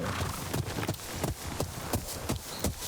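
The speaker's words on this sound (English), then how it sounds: "let's get our horse over here" Horse hooves clip-clop steadily in the Ghost of Yotei video game, a regular rhythm of close, distinct footfalls over low ambient background.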